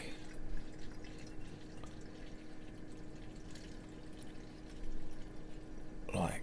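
Water pours steadily into a bottle up to the neck with a low gurgle, close and fairly quiet, ending in a brief louder splash.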